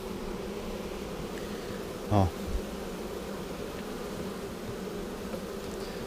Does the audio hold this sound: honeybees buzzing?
yes